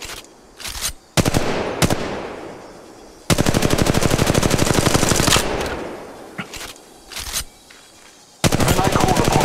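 Automatic gunfire in the battle royale game Apex Legends Mobile comes in loud, rapid bursts. A few short volleys lead into a sustained stream of shots lasting about two seconds, and a final heavy burst closes it out.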